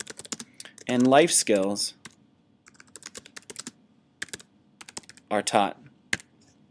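Keys clatter on a computer keyboard in fast, uneven bursts of clicks, close and moderately loud, interleaved with a person speaking at two points.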